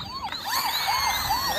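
A toy police car siren wails in a steady, repeating up-and-down pattern, loud and close, with no talking over it.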